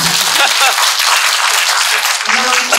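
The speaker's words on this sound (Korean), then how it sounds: "제가 박수 치는 거 좋아해가지고" Audience clapping during a Korean film talk event, a dense, loud burst of applause that carries on throughout, with voices mixed in beneath it.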